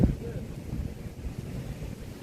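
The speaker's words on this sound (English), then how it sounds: "It's getting kind of windy, and it's starting to sprinkle now." Outdoor wind buffets the microphone as rain begins to sprinkle, making a continuous low rumbling gust noise that stays steady at moderate loudness after a brief knock at the start.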